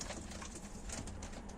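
Pigeons coo in a steady low murmur at a live Turkish auction of Nail Kara breed play pigeons, a continuous dense flock sound with no voices over it.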